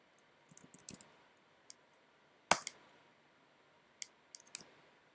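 A computer keyboard clacks as a command is typed, with sparse, uneven keystrokes in small clusters and one sharper key press in a quiet room.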